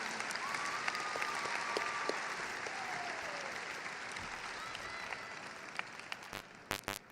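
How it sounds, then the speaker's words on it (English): Sustained audience applause at a high school graduation ceremony, a dense wash of many hands clapping in a large hall that holds steady before thinning into a few louder scattered claps near the end. "Let's give all of these people a round of applause"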